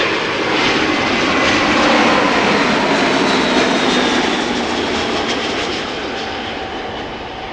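An airliner comes in to land at Amsterdam Schiphol Airport, its engines a loud, close, steady roar that swells slightly and then slowly fades as it passes, with no talking.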